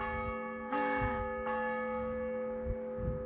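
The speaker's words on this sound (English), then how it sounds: "He's just rung the bell." A bell rung in the Slovenian countryside gives a clear, sustained ringing tone with lingering overtones, struck once and then again, fairly faint against light background sounds.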